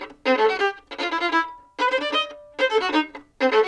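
Violin playing a passage from Schumann's Symphony No. 2, stretching the first note of each four-note group. Five close, loud bursts of bowed notes come in a halting, uneven rhythm, separated by short gaps.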